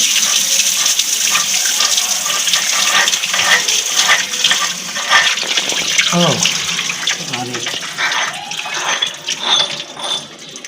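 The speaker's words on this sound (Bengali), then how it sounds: "পানি চলে এসেছে তো এই পানিগুলা" Water gushing steadily from a Pedrollo water pump, a continuous broadband rush running throughout with a few clunks and splashes midway, fairly loud and close, with no one talking.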